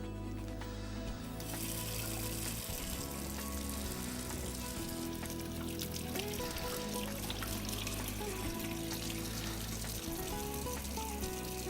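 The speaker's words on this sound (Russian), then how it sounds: "Первое, что мы должны сделать, это помыть руки." Hands washed under a running kitchen tap before cooking chickpeas with meat, a steady loud gush of water with faint clinks, continuous and close throughout.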